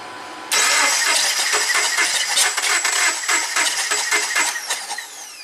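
A 2009 Subaru Forester with a crank no-start fault cranks over steadily without catching, a loud, close, rhythmic churning that runs for about five seconds after a brief quiet lead-in.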